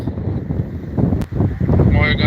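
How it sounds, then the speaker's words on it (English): Heavy wind buffets the microphone outdoors during a storm chase in loud, continuous rumbling gusts, with a voice partly audible beneath the roar. "I apologize for the wind. It's super windy."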